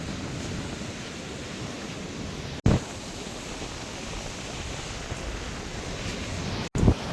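Sea waves rolling onto the shore at Mullaitivu with strong wind buffeting the microphone, a constant roaring wash with two brief dropouts and no talking.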